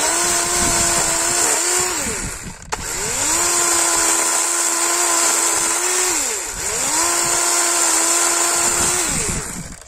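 Chainsaw cutting a wooden support post while building a house, engine revving loud and close in three long sustained bursts with brief dips between, no talk.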